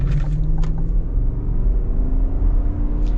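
A 2022 GMC Yukon SLE with the 5.3 V8 cruising, a steady low engine and road rumble heard from inside the cabin, constant and moderately loud with faint tire hiss and no talking.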